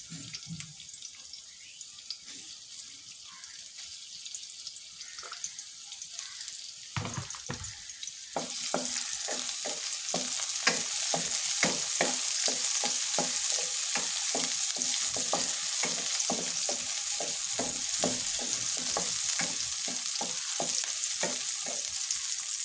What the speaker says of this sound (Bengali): বেরেস্তাটা ভাজার জন্য প্রথমে আমি বেরেস্তাটা ভেজে নিব।